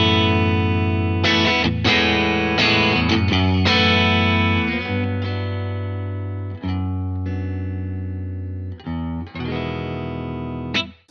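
Electric guitar chords run through a pedal that adds grit and chime, played into a Fender Deluxe Reverb amp for a math rock tone, loud and sustained with several restrikes and short breaks.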